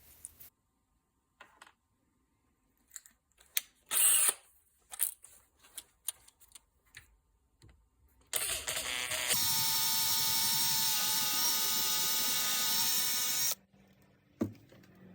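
A drill enlarges the mounting hole on an IC in a Series Land Rover voltage stabiliser, giving a steady high-pitched whine for about five seconds after scattered taps and handling clicks.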